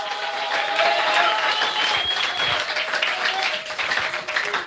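Congregation applauding during a church service, dense sustained clapping that fills the space, rising and falling slightly, with faint voices mixed in.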